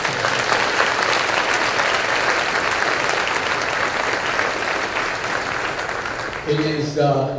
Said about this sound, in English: join me in a rousing applause for Ms. Debbie Heiler